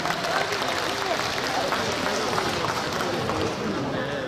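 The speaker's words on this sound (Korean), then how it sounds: "뜨거운 박수 보내주세요." Audience applause for a traditional arts troupe at a festival for Disability Day, a steady wash of clapping heard from a distance and fairly quiet.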